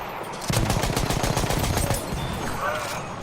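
Rapid automatic fire from a Benet Mercier gun in the Battlefield 1 video game, a loud, close burst of evenly spaced shots lasting about a second and a half, then a fading tail of game sounds.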